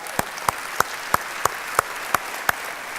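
During a church sermon, slow, evenly spaced handclaps ring out, about eight sharp claps in a steady rhythm over a quiet room.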